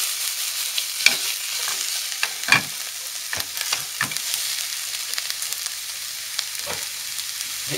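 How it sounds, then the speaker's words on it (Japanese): Leftover new onions stir-fry over medium heat, giving a steady moderate sizzle punctuated by several scraping strokes of a spatula against the pan, with no one speaking. "新玉ねぎの、残りをね、まず中火でじっくり炒めてね"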